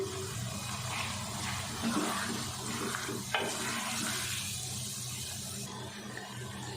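Beef keema with potatoes and peas frying in a pan, a steady close sizzle with scraping stir strokes and a brief clatter as ingredients go in, with no talking.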